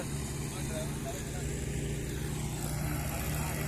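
Two tractors, a Massey and a Holland, puddling a flooded field, giving a continuous low engine drone at fairly close range without pause; a voice speaks over it.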